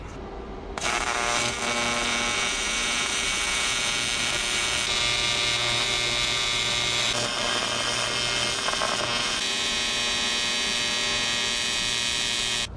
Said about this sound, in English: let's get it welded